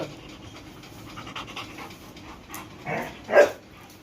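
A dog pants rapidly and steadily close up, ending with a short whimpering yelp.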